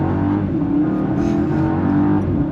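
A BMW G90 M5 fitted with a Valvetronic Designs valved sport exhaust gives a loud, close, continuous deep exhaust drone that holds steady with no pause.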